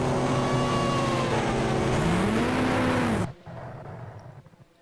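Racing car engine in the GTR 2 racing game: a loud, steady drone whose pitch dips and climbs, then cuts off abruptly, leaving a quieter, fading rumble alone.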